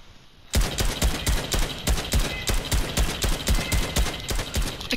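Rapid bursts of gunfire in a building shooter video game, loud and close, starting abruptly after a brief quiet moment and continuing as dense repeated shots with no speech.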